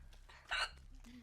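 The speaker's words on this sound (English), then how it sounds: "I have mad hiccups right now." A woman hiccups once, a sharp, sudden, quiet gulp close to the mic, with faint murmuring before and after.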